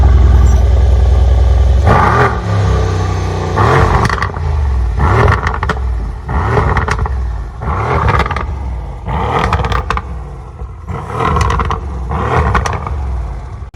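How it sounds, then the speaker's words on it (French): A Mercedes-AMG C63 S Edition 1 with a 510-horsepower V8 is revved repeatedly, about seven loud, close blips rising and falling over a deep idle rumble, with no voices. "un très beau moteur, hyper fiable, qui développe 510 chevaux comme je vous ai dit et qui fait un bruit de malade"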